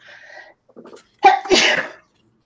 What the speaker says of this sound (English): Excuse me. Had to sneeze.